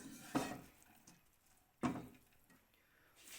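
A spatula scrapes and taps through boiled rice in a pan of chicken fried rice, two distinct knocks about a second and a half apart with soft stirring between, quiet and close.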